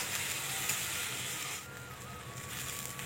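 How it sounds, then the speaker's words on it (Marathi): Chopped tomato added to onion sautéing in hot oil in a pan sizzles with a steady, even hiss and faint crackle, soft and continuous, alone without talk. "तर आपण जे टोमॅटो चिरून घेतलेला आहे तर तो पण ते आपल्याला तेलामध्ये थोडा वेळ परतून घ्यायचा"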